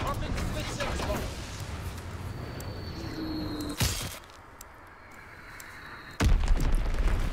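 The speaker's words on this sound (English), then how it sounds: "Got a little glide bomb." Glide bomb going off in Call of Duty WW2: a sharp, loud blast strikes near the middle, followed by a quieter stretch, then a second heavy boom near the end over steady battlefield ambience.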